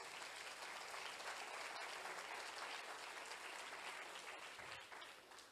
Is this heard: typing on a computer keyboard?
no